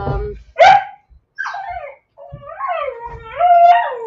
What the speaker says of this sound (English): My dog, you can see, he's going crazy. He's barking whenever the bell rings.